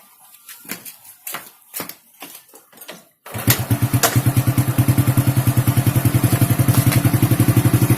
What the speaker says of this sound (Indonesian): Sekarang kita tinggal menghidupkan motor kembali.